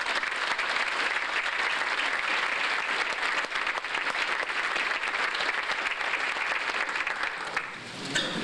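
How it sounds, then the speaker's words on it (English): A banquet crowd honoring a girls' basketball team at a 1997 sports awards dinner breaks into steady, dense applause that holds loud and even for about eight seconds before thinning slightly at the end. "how about one final round of applause for the entire team?"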